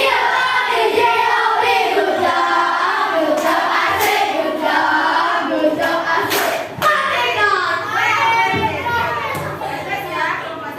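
Classroom of children applauding group one, a dense burst of lively clapping mixed with excited kids' chatter and shouts that carries on for several seconds, close and loud.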